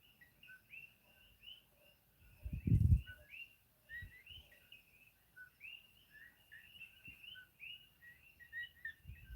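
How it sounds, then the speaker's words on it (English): Repeated high chirping calls from many small coqui frogs fill the night in Hawaii's Big Island, steady and overlapping, with a few low thumps and rustles nearby. "What you're now going to be hearing is the coqui frogs."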